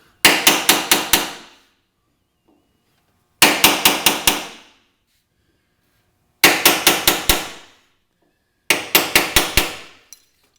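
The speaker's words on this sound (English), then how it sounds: "take our center punch, put it right in the middle, just a tap" A steel center punch is tapped with a hammer into a car body spot weld, ringing out four close bursts of quick metallic strikes, each burst about five taps, separated by pauses of silence.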